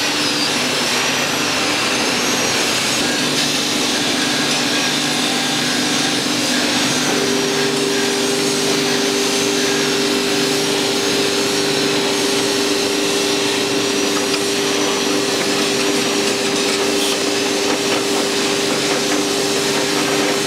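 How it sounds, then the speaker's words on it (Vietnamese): A powered drill boring into a knife handle in a knife-making workshop, a loud, sustained whining drone with a steady pitched hum that holds for a long stretch amid constant machine noise and no talk. "bây giờ mình mang đi khoan cán."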